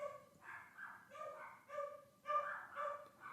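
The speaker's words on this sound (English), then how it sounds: "the dog barkings aren't as loud this time" Dog barks at a distance in a podcast recording, a string of soft, muffled bursts spread through the moment, faint and somewhat thin as if picked up through a phone.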